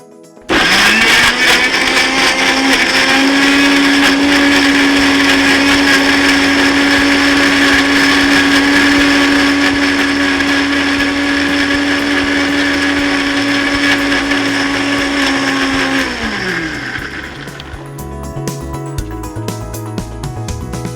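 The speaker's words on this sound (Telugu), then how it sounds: "ఆలోపు నేను టమాటా కూడా మిక్సీలో వేసేస్తాను." A mixer grinder whirs loudly and steadily, blending tomatoes into a puree, its motor tone holding level before winding down near the end, followed by quieter handling noise.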